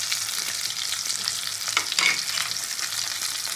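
Fish frying in hot oil in a pan, a dense steady sizzle with crackling spits and a few small bursts, close up and with no talking.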